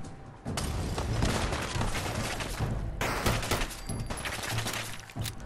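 Sustained gunfire in Fallout 4, a dense fusillade of rapid shots and bursts running loud and nearly continuous, with thumping impacts and a brief lull midway before the firing resumes.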